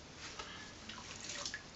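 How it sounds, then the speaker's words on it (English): Homebrew honey apple cider liquid is poured into a container, a soft, quiet splashing and dribbling over a short stretch with a few small drips. "I'll just pour some of this in here."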